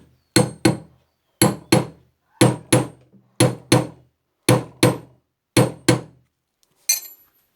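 Light metallic taps on a mixer grinder coupler come in quick pairs, repeated about seven times at a steady pace, each sharp click ringing briefly.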